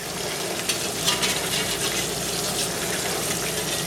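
Egg frying in a cast iron pan, a close, steady hissing sizzle with bursts of crackle and spatter running the whole time.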